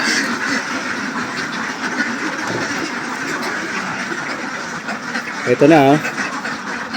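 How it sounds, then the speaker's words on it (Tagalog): Ducks on a duck farm quack in a short burst near the end, heard over a steady background rumble, with a person talking alongside. "So dito na ang itik."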